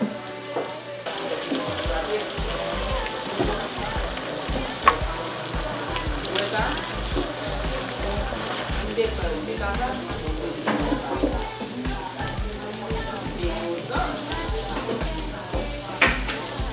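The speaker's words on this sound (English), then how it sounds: "And now I'm adding in some tomatoes." Tomatoes and cloves fry in a hot pan with a steady, close sizzle and crackle, punctuated by occasional stirring scrapes, continuing without pause.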